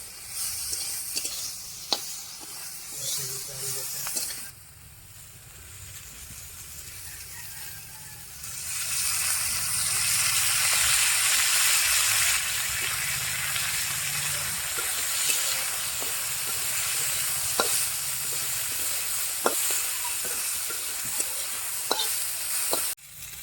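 Bitter gourd frying in oil over an outdoor cooking fire. A steady sizzling hiss swells after a quieter opening and holds loud and close, with occasional sharp clicks and pops.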